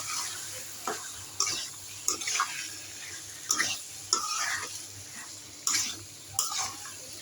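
Chicken frying with spices in a pan, stirred with a spatula in scattered scraping strokes every second or so over a low hum and faint sizzle, heard close with no talking.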